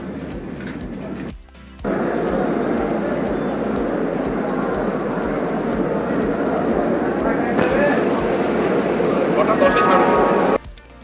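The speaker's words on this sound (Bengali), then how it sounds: "ট্রেন একদম রাইট টাইম 6:10 স্টেশন থেকে ছেড়ে দিল" A train pulls out of a station right on its 6:10 departure on a foggy morning, heading on a trip to Puri, making a loud, steady rumble that starts abruptly and holds until it drops off near the end.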